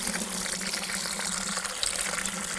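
Steady tap water gushing into a bucket, filling about 3 gallons of rinseless car wash solution, a constant close, even rushing splash with no talking.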